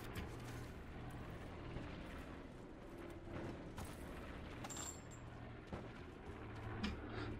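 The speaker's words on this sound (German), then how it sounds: "Die Schüsse höre ich." Distant gunfire in the battle royale game Call of Duty Black Ops 4 Blackout, scattered faint shots popping over a dense, steady in-game ambience with no voices.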